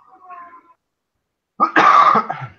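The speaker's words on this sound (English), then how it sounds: "Sorry, I have a cough too." A person coughs in a short harsh burst of several hacking coughs, close and fairly loud, after a moment of faint quiet tone.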